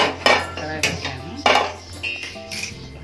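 A metal kadai is set down on a kitchen stove, giving several sharp clanks and rattles of cookware at irregular intervals, close and fairly loud, with faint background noise.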